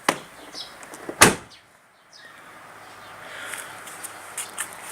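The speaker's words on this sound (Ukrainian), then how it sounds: "Куди дівається повітря при закриванні дверей." Mercedes W210 car door closing with a single solid thud, preceded by a softer click and followed by quiet cabin ambience and faint handling noise.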